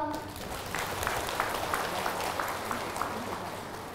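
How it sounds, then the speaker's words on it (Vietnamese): An audience at a Buddhist memorial ceremony claps steadily throughout, a soft, distant patter of many hands with faint voices mixed in. "Xin quý vị cho một tràng vỗ tay nữa đi ạ"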